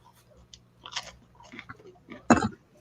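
A crunchy pizza bagel bite is bitten into, one sharp, loud crunch near the end after softer mouth and handling sounds.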